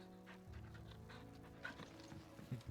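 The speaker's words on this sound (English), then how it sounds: "Who's a good boy, Toro?" A dog panting in the Final Fantasy XVI video game, steady and continuous over game music and ambience, with a couple of louder breaths near the end.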